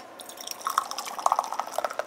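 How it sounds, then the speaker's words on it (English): Beer poured into a pan of vegetables cooking beside sausage and potatoes, a run of quick close splashy drips and trickles that grows busier and louder partway through, with no voices. "now I'm going to add about 1/3 cup of beer to the vegetables to kind of help steam everything done"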